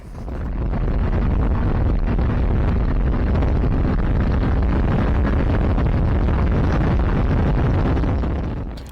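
Heavy wind buffeting on a Kawasaki Ninja 650 motorcycle ride, a loud, continuous roar dominated by rushing air with the engine buried underneath, steady throughout with no speech.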